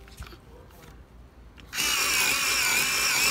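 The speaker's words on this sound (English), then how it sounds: "I just need a sharpener." A pencil sharpener grinding a pencil starts abruptly after a quiet, faintly noisy stretch and continues as a loud, steady whirring buzz up close.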